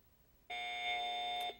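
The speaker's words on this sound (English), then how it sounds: "Oh, Steven, I see you ringing in" A single electronic quiz buzzer tone sounds for about a second during a high school quiz match, steady and bright, with a brief higher chirp near its end.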